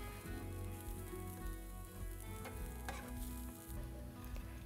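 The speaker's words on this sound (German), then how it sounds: "Eine Pfanne mit Erdnussöl erhitzen und die Zwiebelringe darin während 10 Minuten langsam" Onion rings fry in hot peanut oil in a pan, giving a close, steady sizzle and crackle with no talking.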